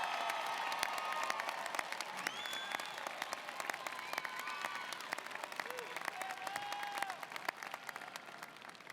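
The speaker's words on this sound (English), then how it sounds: "let's give our graduates another round of applause." A large crowd at a university commencement ceremony gives graduates sustained applause, dense continuous clapping from a big hall or stadium, with a few faint voices and cheers mixed in.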